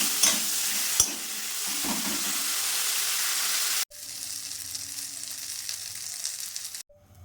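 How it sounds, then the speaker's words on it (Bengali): Salt- and turmeric-coated prawns fry in hot white oil with a loud, continuous hissing sizzle close up, a couple of sharp clicks near the start, and the sound cutting off abruptly twice. "নুন হলুদ মাখানো চিংড়ি মাছ এর মধ্যে দিয়ে দিলাম, দিয়ে ভেজে নিলাম।"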